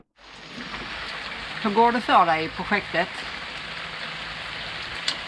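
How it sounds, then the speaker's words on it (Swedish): Steady rain patters in a dense, even hiss on a sailboat in southern Italy and keeps falling throughout, while a voice speaks briefly over it partway through. "Det regnar."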